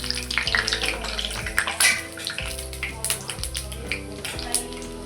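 Medu vada frying in hot oil in a home kitchen, a steady bubbling sizzle with scattered crackles and pops that runs under someone talking.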